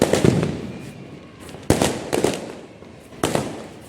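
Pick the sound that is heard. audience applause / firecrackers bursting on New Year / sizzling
firecrackers bursting on New Year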